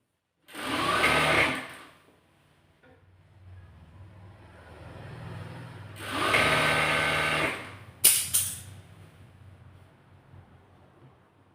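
A sewing machine stitching the slit of a kurti runs in two loud bursts of a couple of seconds each, separated by a quiet pause, with a sharp click and then fainter handling noise afterward.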